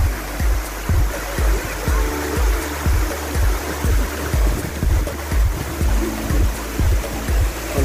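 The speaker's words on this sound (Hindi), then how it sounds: "ऊपर से पानी आ रहा है," Ayn Athoom waterfall near Salalah in Dhofar, a steady broad rush of falling water with low rumbling pulses, close and loud throughout with no talk.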